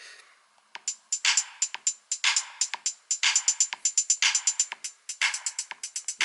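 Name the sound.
drum pattern programmed in GarageBand beat sequencer on iPhone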